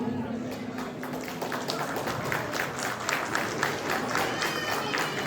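Steady crowd applause from an audience cheering children who just sang at a Kannada Rajyotsava 2024 celebration, continuous and fairly even throughout with a dense clapping texture and no clear speech.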